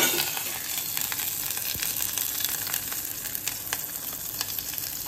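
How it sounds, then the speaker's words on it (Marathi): Curry leaves and a little onion sizzling in hot oil, a continuous bright frying hiss with small pops and crackles, no voices. "आता आपल्याला हे तेल जसं तापेल तसं आपल्याला ह्याच्यामध्ये कढीपत्ता आणि ह्या जो कांदा आहे थोडासा तो टाकायचा आहे"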